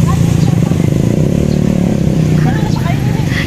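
A motorcycle rolls in on arrival at a family Mother's Day fiesta meal in Infanta, its engine running steadily and close under constant chatter and people talking throughout.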